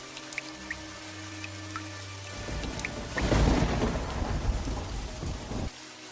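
Heavy rain pours steadily while a deep roll of thunder swells and rumbles for a few seconds midway, then fades, with no voices.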